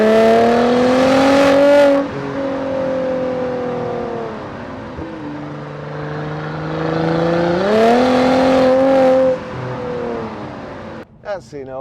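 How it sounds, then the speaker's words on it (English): Mercedes-AMG C43 4MATIC, a 2016 3.0-litre C-Class with automatic paddle-shift gearbox, revs loudly under acceleration, its exhaust note climbing in pitch, dipping with a gear change, then rising again before cutting off abruptly. "I might just cut that bit of exhaust noise in."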